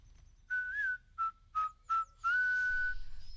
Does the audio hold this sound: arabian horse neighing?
no